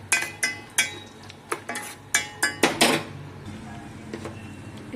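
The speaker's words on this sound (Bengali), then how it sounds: "নেড়ে ছেড়ে হালকা বাদামি কালার করে নিচ্ছি।" A metal spoon stirs kheer in a pot on a low gas flame, giving a series of sharp scraping clinks against the pot, several in quick succession and then quieter, with no talk.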